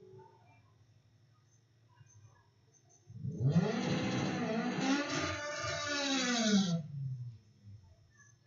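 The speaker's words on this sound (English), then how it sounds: "we got Riley in the 2004 Corvette in the AMA lane, ready to show us what their vehicle can do" A 2004 Corvette launches down a quarter-mile drag strip, its engine swelling from quiet idle into a loud, rising roar that climbs through the gears for a few seconds before falling away.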